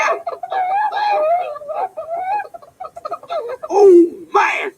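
Cartoon chickens in a hen house cluck and squawk in a busy, close run of fowl calls, ending in a rising crow-like cry and a sharp burst.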